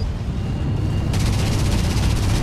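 A tag cannon fires in the Battlezone game, a loud, sustained blast with a broad, hissing roar that swells partway through and holds steady to the end.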